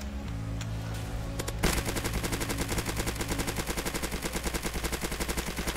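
A Thompson submachine gun in a Roblox zombie game fires one long, steady automatic burst with a rapid, even rhythm of loud close shots and no voices.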